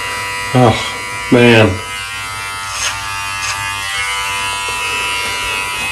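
Electric beard trimmer fitted with a comb cutting through a long beard: two short loud buzzing bursts early, then fainter intermittent whirring, close up, with someone briefly speaking.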